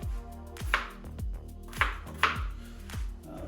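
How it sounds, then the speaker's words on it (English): A knife chops potatoes on a cutting board in a home kitchen, several sharp, uneven thuds a few tenths of a second apart, close and fairly quiet, with no talk. "Okay, so we've got our potatoes all chopped up."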